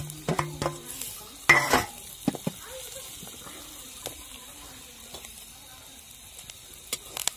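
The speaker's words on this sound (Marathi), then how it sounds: "त्यानंतर आपण टाकणार आहोत हा कांदा, परतवलेला आपला हा कांदा।" Onion sautéed with curry leaves in a pan crackles with a soft, steady sizzle, punctuated early on by several clattering scrapes and knocks of a spatula, then settling into a quieter hiss.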